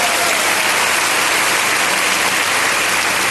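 A large audience at a company stage function bursts into loud, dense applause that fills the whole stretch without pause.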